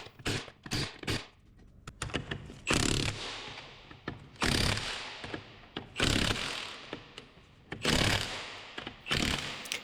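Lug nuts are tightened on a Suzuki Grand Vitara rear wheel with a power tool, loud repeated bursts of whirring and rattling separated by short pauses, close by.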